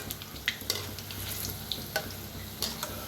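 Onion pakoras, kanda bhaji, deep-frying in hot oil, a soft continuous bubbling sizzle with a few light clinks of a slotted spoon, fairly quiet and close.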